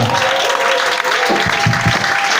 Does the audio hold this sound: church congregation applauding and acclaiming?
yes